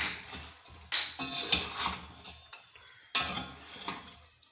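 A spoon scrapes and turns spiced chicken for matar chicken pulao in a pot after red chili powder and black pepper go in, with two separate bursts of stirring and a soft sizzle in between.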